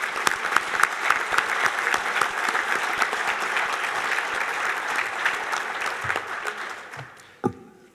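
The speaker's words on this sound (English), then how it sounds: "can we have one more round of applause for our title sponsor" An audience at a hall of fame induction ceremony claps in a sustained, lively round that fades out toward the end, followed by a couple of faint thumps and room noise.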